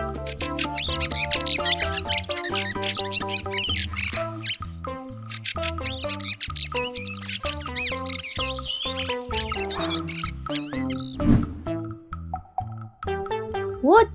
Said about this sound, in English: Hermit thrush.